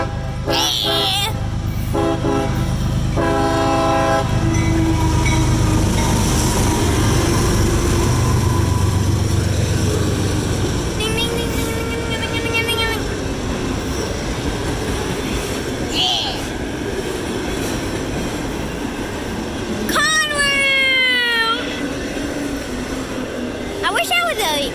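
A CSX freight autorack train led by two engines rolls past close by with a heavy rumble and clanking cars, horn blasts sounding near the start and end, and people talking over it.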